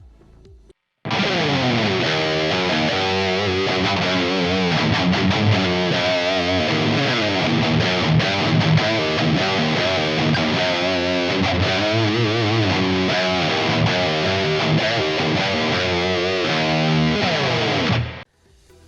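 Distorted electric guitar played through an amp simulator with reverb and a noise gate, a dense sustained riff of chords and notes lasting about seventeen seconds, loud and alone, cutting off cleanly at the end.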